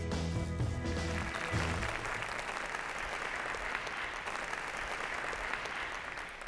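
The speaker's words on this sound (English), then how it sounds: "Thank you for that wonderful applause and welcome to the show" Studio audience applause swells into a full, steady wash of clapping, loud and sustained, with a bit of music fading underneath at the start.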